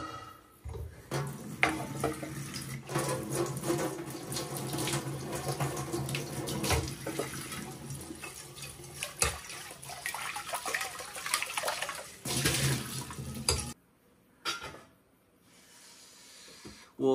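A kitchen tap runs as food is washed under it in a home kitchen, water splashing and gurgling unevenly close by with brief handling interruptions before it shuts off near the end.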